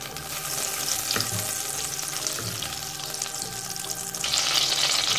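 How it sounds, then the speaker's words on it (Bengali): Butter melting in a pan on low heat, a steady close sizzle and fine crackle throughout that swells a little louder near the end, with no voices. "বাটারটাকে মেল্ট হতে হবে, আবার খেয়াল রাখতে হবে যাতে বাটারটা পুড়ে না যায়।"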